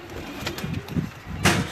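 Pigeons on a rooftop give a few soft, low coos in quick succession, close by, with light rustling and background noise between them.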